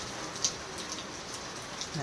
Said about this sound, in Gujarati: અને જોઈ લ્યો તમે ફરી પાછો વરસાદ ચાલુ થઈ ગયો છે